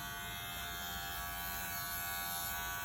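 An electric hair clipper buzzes close by during a haircut, a steady high-pitched electric drone that stays even throughout with no voices.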